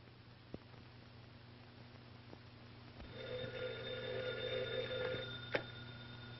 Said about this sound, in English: Telephone. Telephone.